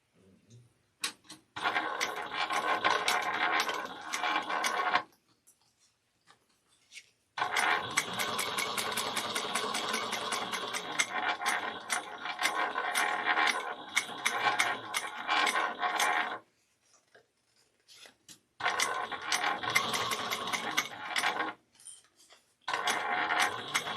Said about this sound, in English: we're going to sew this together at 1/4 of an inch seam allowance